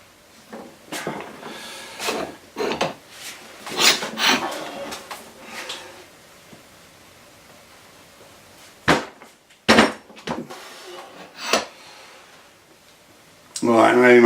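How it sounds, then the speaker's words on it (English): A metal bar slides off an old hydraulic press with scattered scraping, knocking and rubbing bursts separated by pauses, ending in a louder clatter, while a person talks quietly in between. "I'm going to slide this bar off of my old hydraulic press"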